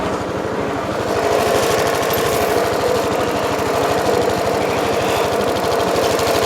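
A John Deere GX75 riding mower engine runs roughly after puffing blue smoke, a loud, close, steady pulsing chug that continues evenly without a break.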